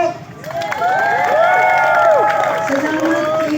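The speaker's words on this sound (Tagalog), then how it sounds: "Salamat kay Senator Alan Peter Cayetano. Palakpak!" Crowd cheering and applause at a senate building, a steady loud wall of voices and clapping with whistle-like shouts rising over it throughout.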